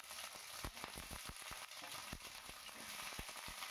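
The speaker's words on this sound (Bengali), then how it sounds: "এবার ফুলকপিগুলোকে ওই তেলের মধ্যে ছেড়ে দিচ্ছি।" Cauliflower florets frying over high heat in oil with a little ghee, a steady faint sizzle broken by scattered sharp pops and crackles, with no talking.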